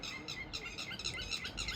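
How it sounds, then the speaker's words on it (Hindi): Many birds chirp and call at once in a continuous high-pitched chorus, steady and fairly close, with no talking over it. "अरे एक तो इतने पक्षी क्यों चिल्ला रहे हैं यहाँ पे भाई"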